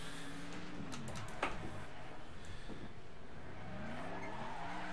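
Cars in Next Car Game driving with engine whine and tires skidding and squealing, a rising and falling engine drone with a brief sharp impact, moderately loud, no speech.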